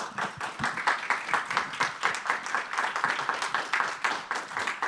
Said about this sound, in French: Alors, on l'applaudit encore, puis merci.